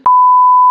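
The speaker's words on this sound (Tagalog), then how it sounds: "Ay, beep lang to, i-cut lang natin yun mga ka-teammates." A steady censor beep, a pure tone lasting under a second, masks a bad word spoken during a hike on the Sta. Cruz circuit trail of Mt. Apo, standing loud and alone.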